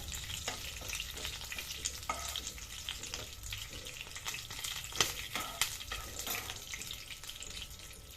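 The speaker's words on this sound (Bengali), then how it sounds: "তো তেলের মধ্যে অল্প করে লালচে হয়ে যাচ্ছে তেজপাতাটা।" Bay leaf frying in a little oil in a non-stick pan, a soft steady sizzle with light scraping and clicks from stirring, close and fairly quiet.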